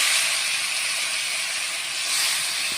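Mustard seeds and garlic go into hot oil, a steady bright sizzling hiss heard close and fairly loud throughout, with no talking.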